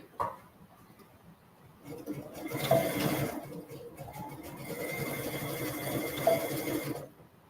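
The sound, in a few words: sewing machine zigzag stitching boardshorts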